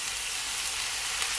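Dark soy sauce hitting fried rice in a hot pan, a loud, dense, even hiss of sizzling close up, steady for the whole moment with no talking.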